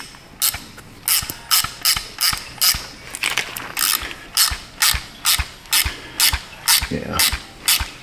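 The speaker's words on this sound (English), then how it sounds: "Let me get something to force it with. We'll use a wrench." Wrench ratcheting in repeated quick bursts of sharp clicks, close and fairly loud, while forcing a threaded part during battery and charging system work on a 2011 Toyota Sienna; no talking.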